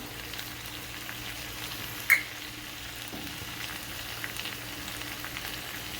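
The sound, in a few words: chicken frying and sizzling in oil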